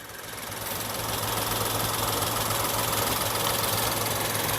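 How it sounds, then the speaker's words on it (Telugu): A 2014 Volkswagen Polo 1.2 Comfortline engine idles with a steady, even hum and a faint rhythmic ticking, heard close and alone. "ఇంజిన్ అయితే చాలా స్మూత్గా ఉంది"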